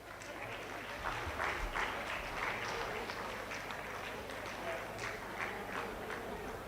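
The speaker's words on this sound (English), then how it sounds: "Please keep on cheering your friends." A hall audience claps and cheers for prize winners at a Youth 20 consultation at Panjab University, a continuous, fairly faint wash of clapping lasting the whole stretch with a voice faintly underneath.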